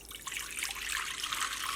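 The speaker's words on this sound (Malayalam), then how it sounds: "അത് നമുക്ക് ഫസ്റ്റ് ഒരു ബൗളിലേക്ക് ഒഴിക്കുക." Warm milk and water poured together into a bowl, a steady close trickling splash that holds evenly throughout with no voices.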